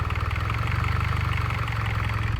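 Mitsubishi Evo X engine, tuned to about 340 wheel horsepower, idling roughly with a rattle, a steady low throbbing pulse with a buzzy mid-range rattle running continuously and close, with no voices.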